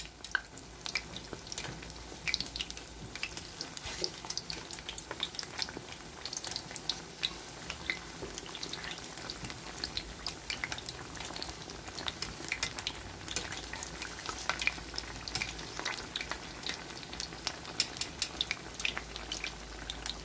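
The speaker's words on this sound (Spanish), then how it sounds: "Ahí puse unos a freír y como verán no los tengo amontonados" Fish pieces for tacos fry in hot oil, a faint steady crackle and sputter with scattered pops continuing alone without talk.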